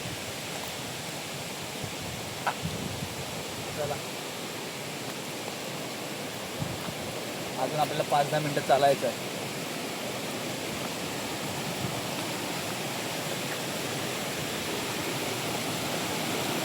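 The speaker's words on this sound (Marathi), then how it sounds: "चंद्रनगर वॉटरफॉल." The Chandranagar waterfall, running low on water, gives a steady broad rush of falling water that fills the scene evenly throughout. A person speaks briefly in the middle over it.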